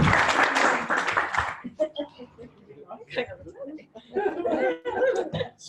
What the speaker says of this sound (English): Give this lady a warm round of applause.